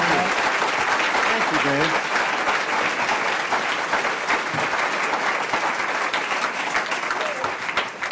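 Warm audience applause welcomes a speaker at a book festival talk, dense, continuous clapping from a crowd throughout, with someone briefly speaking over it.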